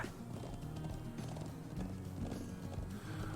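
Faint rhythmic hoofbeats clip-clop steadily, a horse trotting at a moderate pace in the video game Trails of Cold Steel.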